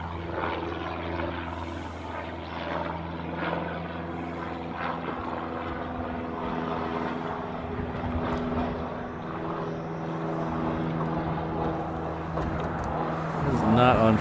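Hawaiian Airlines airliner flying near Honolulu airport, a steady distant jet engine roar lasting throughout and swelling slightly toward the end, with faint background voices and wind.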